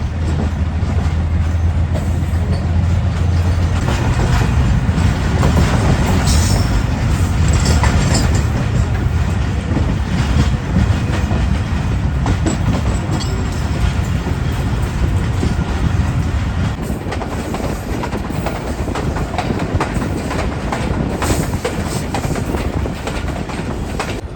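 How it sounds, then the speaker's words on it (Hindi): The New Khushal Khan Khattak Express rolls along at speed, a loud continuous rumble with rhythmic wheel clatter and rattling carriages, a low hum fading partway through. "तो 5:01 पर ट्रेन हमारी निकल चुकी है लकीशा सदर रेलवे स्टेशन से"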